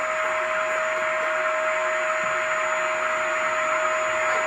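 A steady, droning vacuum cleaner hums continuously with an even, unchanging pitch at moderate volume.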